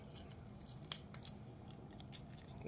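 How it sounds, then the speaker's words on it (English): Several quick, crisp snips of scissors slicing open a thin reagent packet for a nitrate checker, close by, over a steady low background hum. "Open that up with your scissors."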